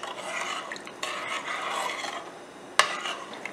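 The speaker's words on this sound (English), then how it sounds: "I'm just going to stir one time." A spoon stirring cooked dal (lentils) in a pot, a steady close scraping and rubbing that runs through the clip, with one sharper clink near the end.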